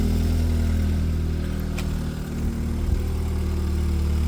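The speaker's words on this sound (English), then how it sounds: "This is a cold start, so it sounds pretty loud." A BMW F30 328i engine idles on a cold start with a steady, low droning rumble, close and fairly loud, holding an even pitch throughout.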